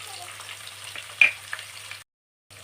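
Ingredients frying in a pan for raw mango rice give a steady, soft sizzle with light stirring clinks. After about two seconds there is a brief stretch of silence, and then the sizzle returns.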